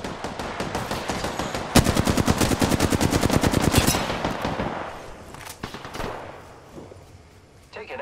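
Automatic weapon fire in a battle royale video game, long bursts of rapid evenly spaced shots, loud and close, trailing off into a few scattered pops and quieter battlefield noise.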